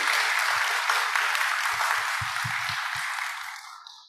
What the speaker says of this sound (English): please join me in giving a huge round of applause to our amazing panel